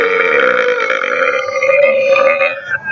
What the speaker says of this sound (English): the older you get, the bigger the burps are